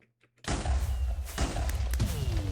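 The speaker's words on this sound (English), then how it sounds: "TNT going off over here." A TNT explosion in a Minecraft match bursts in suddenly after near silence, a loud, broad blast that rumbles on for about two seconds with a couple of further thumps inside it.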